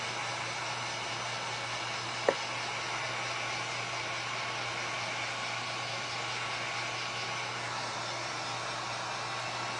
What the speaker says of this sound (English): Hair dryer is not going to be hot enough.